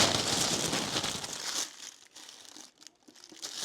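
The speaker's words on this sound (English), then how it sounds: "Came in tissue paper." Tissue paper wrapped around a Louis Vuitton Nice Mini bag crinkles loudly and close up as it is unwrapped, then settles into quieter, intermittent rustles.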